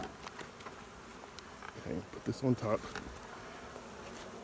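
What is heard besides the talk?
honeybees buzzing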